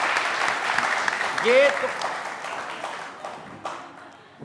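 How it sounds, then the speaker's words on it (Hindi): A comedy show's studio audience claps in a fading burst of applause, starting fairly strong and tapering off over a few seconds while a host speaks over it. "इतनी तालियां कौन बजाता है भाई?"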